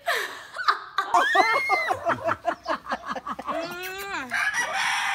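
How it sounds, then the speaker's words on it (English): Chicken held in the arms during a visit to a grandparents' house near Santa Rosa, Philippines, clucking in a rapid run of close, loud squawks that rise into a drawn-out crow-like call, with a little human laughter. "I got to hold a chicken."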